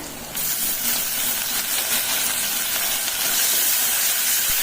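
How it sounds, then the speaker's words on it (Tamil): Ginger garlic paste hits hot oil with a sudden strong hiss that sets in right at the start and stays as a dense, even sizzle for a few seconds, with no voices. "இஞ்சி பூண்டு பேஸ்ட்டு ஒரு 1/2 ஸ்பூன் சேர்த்துக்கிறேன்"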